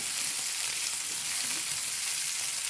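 Kottappam frying in oil as it is stirred, giving a steady, dense, close sizzle that stays even throughout with no talk.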